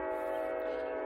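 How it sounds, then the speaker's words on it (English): A train blows a sustained, steady horn, loud and continuous throughout the short stretch, with no talk. "Sorry for that train in the background."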